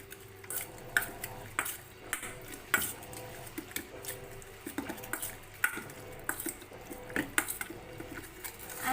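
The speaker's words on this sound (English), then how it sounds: "And let's just mix this" A soy sauce mixture is stirred in a pan, with irregular clinks and scrapes of a utensil against the metal and faint liquid sloshing, close and moderately loud, without any talking.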